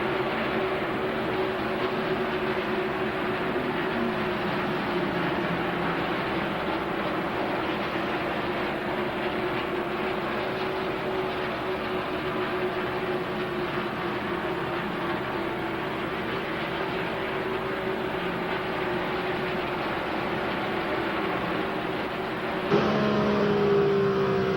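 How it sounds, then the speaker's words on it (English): Mark Martin's stock car runs at speed during the 1998 California 500 at California Speedway, heard from onboard as a continuous, loud engine drone that holds nearly constant, with a brief shift near the end. "You are riding aboard the car driven by Mark Martin."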